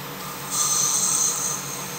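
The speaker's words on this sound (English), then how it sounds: "Just wrap that around my finial and just take away the high points on that and some of the tool marks." Sandpaper folded and held against a spinning wooden finial on a lathe, smoothing high points and tool marks for a sea urchin ornament; a steady hissing rasp rises for about a second over the lathe's hum, then eases off.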